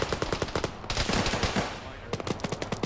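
Rapid bursts of gunfire from a military combat game, with sharp repeated shots from several weapons crackling in clusters at the start and end and a denser sustained stretch of firing through the middle.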